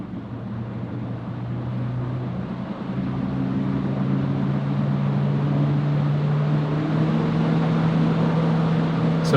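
Car engine cooling fans run at 90% speed, commanded through a MUCAR DriverScan scan tool, making a steady loud whooshing roar with a low hum that builds slightly early on and then holds constant, with no talking.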